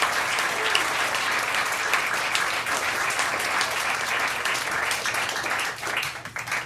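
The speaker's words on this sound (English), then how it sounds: "And so a round of applause for your bartenders." A cabaret audience applauds the bartenders, loud and sustained clapping from many hands that fills the room evenly, with a few faint voices mixed in beneath it.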